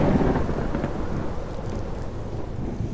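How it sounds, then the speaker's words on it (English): Deep thunder rumbles steadily through a thunderstorm, layered with the constant hiss of heavy rain, a dense, continuous wash of low rolling sound with no voices. "the thunder comes more slowly to our ears"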